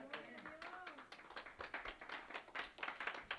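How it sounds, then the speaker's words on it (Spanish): A church congregation claps during a sermon, a scattered, moderately quiet patter of hands following a short spoken phrase, continuing unevenly to the end. "¿Cuántos le pueden dar un fuerte aplauso al Señor?"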